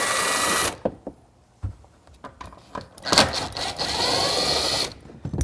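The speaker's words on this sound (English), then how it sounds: "we're going to go ahead and use an impact driver to remove the bolt" An impact driver rattles in short bursts while removing a T40 Torx bolt during an amplifier install in a BMW X2 (F39). Loud hammering whirs start and stop, with clicks and handling noise between them and no talk.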